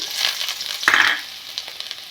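Chopped garlic dropped into hot oil for restaurant-style paneer Manchurian, giving a soft steady sizzle with a brief sharper crackle as it hits the pan, fading back to a gentle hiss.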